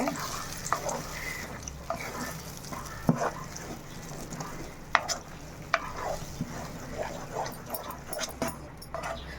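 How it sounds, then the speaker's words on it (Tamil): A spoon scrapes and stirs thick nendran banana halwa in a nonstick pan, with soft irregular knocks and a faint sizzle underneath. "கை விடாமல் கிண்டிக்கிட்டே இருங்க."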